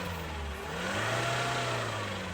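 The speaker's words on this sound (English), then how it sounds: "I'm gonna rev, see a little bit of smoke and soot mix coming out." A tuned Roxor engine revs steadily at close range, its rough, dense drone rising a little partway through and holding with no talking.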